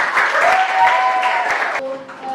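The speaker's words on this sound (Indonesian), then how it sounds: "Tepuk tangan buat 12 PDP 2." Classroom applause for a class 12 vocational high school group, a steady wash of clapping from a room of students, fading near the end as voices and tonal sounds come through.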